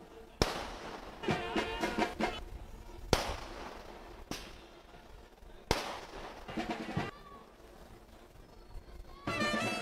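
Fireworks going off, several sharp bangs spaced a few seconds apart, each followed by crackling, echoing outdoors.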